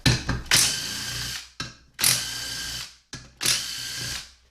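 Short, loud bursts from an impact wrench spinning an 8mm socket on a bolt at the stator support of a 6L80-E transmission, three hammering runs of about a second each with brief gaps between.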